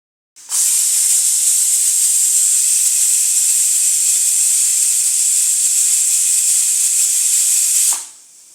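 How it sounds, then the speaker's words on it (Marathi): A stovetop pressure cooker of rice khichdi vents steam through its whistle in one long, loud, continuous hiss lasting several seconds before cutting off sharply. "शिट्टीचा आवाज"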